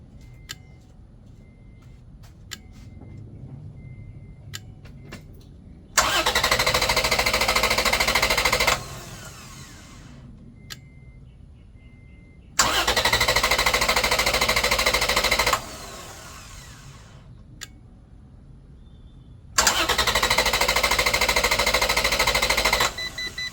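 A car engine cranks on power from a LECTRON S10 4000A jump starter, with three separate loud, sustained bursts of rapid, rattling, churning starter-motor turning, each about three seconds long. Quiet gaps with faint ticking separate the bursts.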